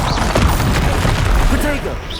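Spell blast from Confringo in the Hogwarts Legacy video game, a dense booming crash of magical explosions and thuds, loud and sustained over about two seconds with a voice speaking over it.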